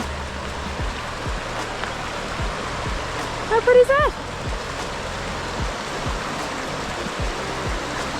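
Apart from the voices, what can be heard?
river flowing at Arrowtown, New Zealand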